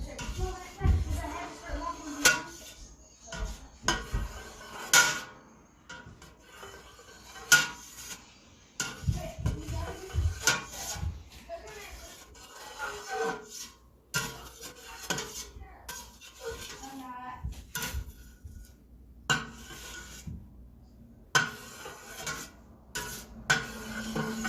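A knife cuts soft mozzarella curd into one-inch cubes inside a pot, producing scattered metallic clinks and taps against the pot with quiet gaps between them, while someone talks at intervals.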